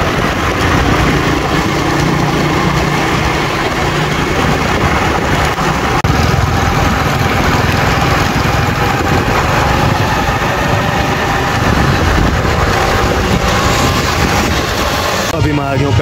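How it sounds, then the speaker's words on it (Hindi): A motorcycle engine runs steadily throughout, a constant droning rumble close by with no pauses. "तो चलता हूँ अभी बाइक पर।"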